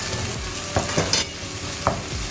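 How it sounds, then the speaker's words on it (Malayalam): Onions sautéing with a pinch of salt in a pan, a steady oily sizzle with a few scrapes and clinks of a spoon stirring, close and continuous without talk. "ഏകദേശം ഉള്ളി വഴന്ന് വന്നിട്ടുണ്ട്."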